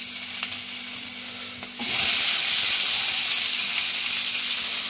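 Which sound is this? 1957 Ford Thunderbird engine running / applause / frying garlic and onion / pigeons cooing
frying garlic and onion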